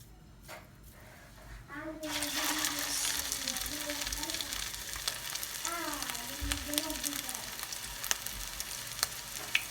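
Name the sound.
meatballs frying in hot oil on the stove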